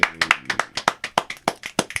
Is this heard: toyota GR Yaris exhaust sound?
no